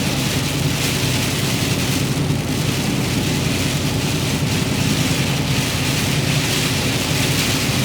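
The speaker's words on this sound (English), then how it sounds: "It's raining." Steady rain pours down around an HGV truck cab on a UK container haul, a dense continuous hiss with a low rumbling undertone and no voices.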